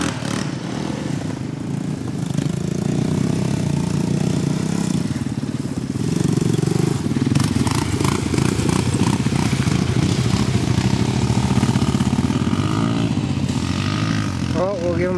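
An XT 350 and a single wheel peel three-wheeler run with a steady, rough engine drone that holds loud and close for the whole stretch, rising slightly midway, with voices faintly underneath.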